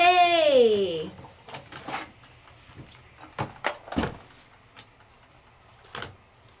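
A die cutting machine cranks wafer die frames through in one run, giving a series of scattered cracks, creaks and clicks after a brief rising tone at the start, with quiet gaps between.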